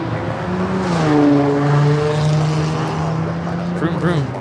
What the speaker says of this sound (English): Air New Zealand Flight 6 coming in from Auckland, the 777-300ER checking in will be a south side arrival coming up.